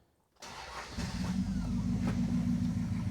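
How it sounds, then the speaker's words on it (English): A car engine starts after a moment of quiet, then settles into a steady, noticeably high idle that hums loud and close with a firm low drone. "That idle seems a little bit too high, dudes."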